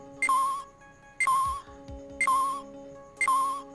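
Electronic beeping in Phoenix Wright: Ace Attorney, four evenly spaced bright chirping tones about one second apart over a steady background hum, clear and close with no talk.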